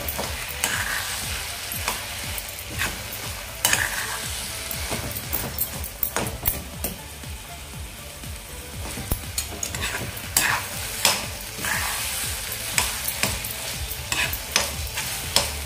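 Spoon repeatedly stirring roasted eggplant mash (vangyache bharit) in a pan, with steady scraping strokes over a soft background sizzle, close and continuous throughout.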